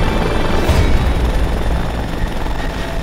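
A rescue helicopter based in Canberra flies nearby, its steady broadband rotor and engine roar loud and continuous throughout, with a slight thump early on and no talking.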